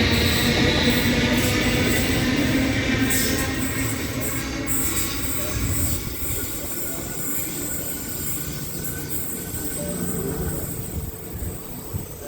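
A Hornsby service train departs platform 3 at Denistone station, a loud continuous rumble of wheels and carriages that fades slightly as it pulls away, with faint squeals above.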